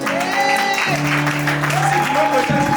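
A church congregation applauds and cheers for a pastor at a celebration service, a loud steady wash of clapping under sustained voices calling out and singing.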